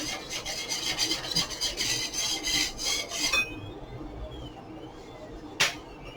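Scraping residue off a part of a FLSUN QQ-S 3D printer: about three and a half seconds of steady rasping strokes, close and moderately loud, then a quieter stretch with one short sharp scrape near the end.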